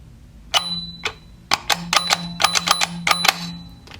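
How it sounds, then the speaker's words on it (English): A small toy tower bell from a Sodor train set dings repeatedly in quick, uneven bursts, bright and metallic, with a faint hum underneath and no voices. "it has this function up here where you can ring the bell"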